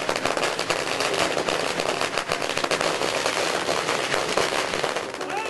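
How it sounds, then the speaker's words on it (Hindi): Dense, continuous crackling of firecrackers bursting in rapid succession at a BJP celebration in Gujarat, loud and close, with faint voices buried beneath the popping. "पटाखों की आवाज के बीच खुशी का इजहार करते"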